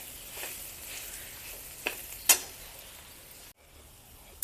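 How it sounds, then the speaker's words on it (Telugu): Dry rice and dal roasting in a pan for rajula uppindi, stirred steadily with a soft continuous sizzle, a couple of sharp scrape clicks near the middle, then a brief cut to near-silence before it resumes. "ఏగి వరకు ఇలా మనం కలుపుకుంటూనే ఉండాలి"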